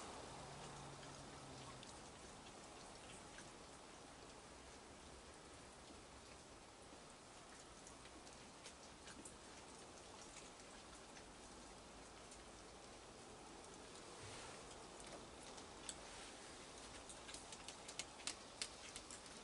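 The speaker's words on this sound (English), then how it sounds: "Boy, is the rain ever coming down, and you can hear it on my steel roof." Heavy rain drums steadily on a steel roof, a dense continuous patter heard from indoors at fairly low level, with a few sharper drips and ticks standing out toward the end.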